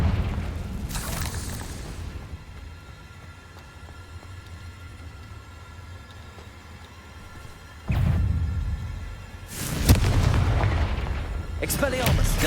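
Confringo blasting spells in Hogwarts Legacy burst as heavy booming explosions, one early, then a quieter stretch before several more powerful blasts land in quick succession near the end.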